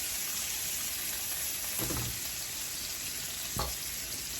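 Meatballs browning in olive oil in a pan give off a steady, close sizzle, with two brief low bumps from shifting or turning partway through.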